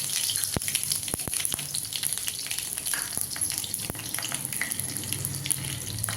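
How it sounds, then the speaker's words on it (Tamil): Mustard seeds and curry leaves sizzling in hot oil, a steady, close hiss with scattered sharp pops and crackles throughout and no talking. "கடுகு கொஞ்சம் போட்டுக்கலாம். அதுக்கப்புறம் கருவேப்பிலை இலையை போட்டுக்கலாம்."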